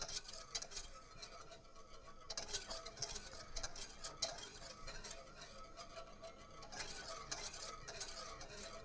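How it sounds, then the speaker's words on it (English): Turkey gravy thickening in a pot is stirred steadily, a near, continuous scraping and sloshing with irregular bursts of louder strokes, no talk over it. "you'll know when it thickens because it's going to be really hard to stir"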